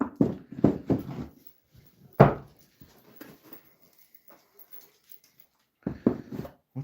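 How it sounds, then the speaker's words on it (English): A large dog moves about a woodshop, making several close, sharp bursts of panting or snuffling with quiet pauses in between, then a final cluster of the same noises. "What's up, big shop dog?"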